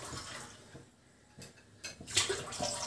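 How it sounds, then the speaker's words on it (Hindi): Water is poured from a glass into a pressure cooker holding dry chickpeas, with splashing and gurgling bursts, a quieter gap in the middle and a louder pour near the end. "मेरा 1 कप चना है तो मैं इसमें 2 गिलास पानी डालूंगी।"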